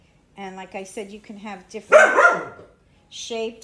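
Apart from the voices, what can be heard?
dog barking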